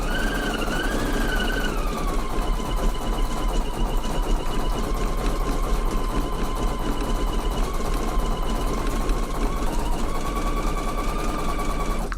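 A Husqvarna EPIC 3 embroidery machine stitches steadily, a close, continuous mechanical whir with a rapid regular needle rhythm and a slight pitch shift near the end, no talk.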